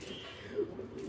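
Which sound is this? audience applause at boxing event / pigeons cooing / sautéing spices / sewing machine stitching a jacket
pigeons cooing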